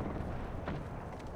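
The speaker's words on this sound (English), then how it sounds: "Fox 3, launching missiles." Missiles launch during a fight in the shooter game Apex Legends, heard as a steady, muffled blasting rumble with a slightly sharper burst midway. It stays low in level and has no speech over it.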